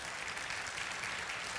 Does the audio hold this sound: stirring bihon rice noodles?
no